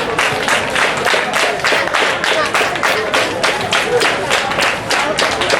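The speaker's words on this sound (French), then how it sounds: "Madame Logo, merci de l'applaudir s'il vous plaît." An audience at a 25th anniversary celebration applauds, steady dense clapping from many hands filling the room at close range, with no talk over it.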